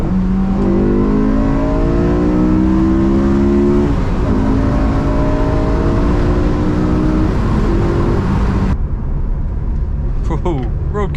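A Honda S2000's 2-litre engine revs hard while driving, rising harmonic sweeps climbing and dropping through the gears, loud and close, with a voice talking over it before the engine note cuts off near the end.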